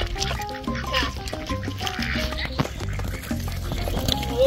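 A duck quacks repeatedly while being caught, rough honking calls in an uneven series close by, mixed with scuffling and splashing.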